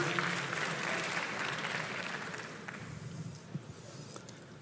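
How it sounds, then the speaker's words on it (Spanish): Audience applause at a live event, a steady dense patter of clapping hands that fills the room, fading slightly toward the end with a few scattered sounds. "Denle un aplauso al acusador."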